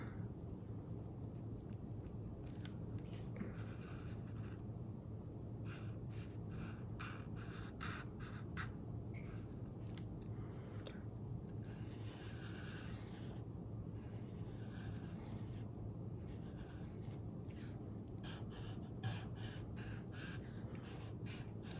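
Pen scratching sun-style patterns onto paper for an Oaxacan coyote drawing, faint close strokes in short repeated bursts with brief gaps, quiet and without talk.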